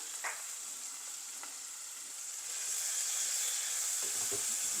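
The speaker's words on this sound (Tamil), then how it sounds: "இப்போ இந்த பாவக்காவை நல்லா ஃப்ரை பண்ணி எடுக்க போகிறான்" Bitter melon pieces fry in a small amount of oil with a steady, close sizzle. Faint stirring clicks come through, and the frying swells slightly louder in the second half.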